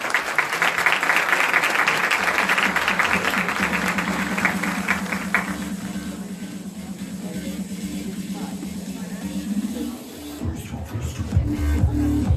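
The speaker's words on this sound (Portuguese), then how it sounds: "Palmas para ela, por favor." Audience applause at a national education seminar roundtable, a steady wash of clapping in a hall that thins out after several seconds while a low steady hum lingers underneath.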